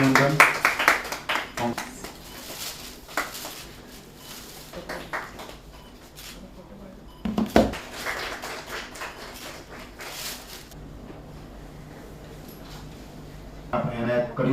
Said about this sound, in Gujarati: તાળીઓના ગગડાથી આપણે વધાવી લઈએ